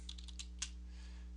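Typing on a computer keyboard while entering a conda command in a terminal, a few quick faint key clicks in the first half second over a steady low electrical hum, then quiet.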